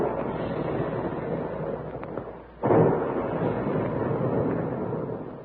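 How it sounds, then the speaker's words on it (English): Big guns booming as an old-time radio sound effect for a puffed cereal ad: a dense, rumbling barrage with a sudden loud burst midway, continuing as a sustained roar. "And there go the big guns"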